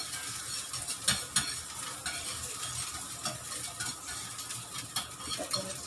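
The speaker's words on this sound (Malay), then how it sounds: "kita tumis juga ya teman-teman sampai harum" Garlic and vegetables sauté in a pan, with spatula scrapes and clinks over a continuous crackling sizzle, close and fairly even, no voices.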